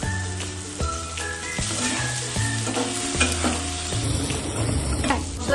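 Paneer cubes sizzle and crackle in oily spice paste in a pan, with steady frying noise and scraping stirs, close and continuous.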